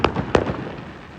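New Year fireworks over Budapest: two sharp, loud bursts a moment apart, each trailing into crackling pops that fade into a rumbling outdoor background.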